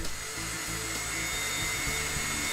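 A power drill bores a hole for a door lock, running as one continuous high-pitched whine that stays loud and steady from start to finish, with no voices over it.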